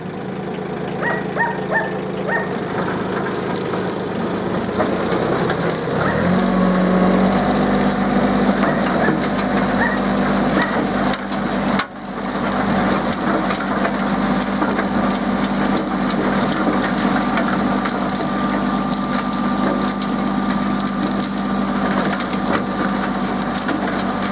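A tractor-driven mulching cutter running at 540 rpm shreds tall weeds, a loud steady mechanical roar with crunching and splintering throughout, steady after a sharp rise in power a few seconds in and a brief dip near the middle.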